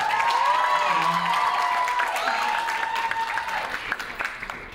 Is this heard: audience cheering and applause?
yes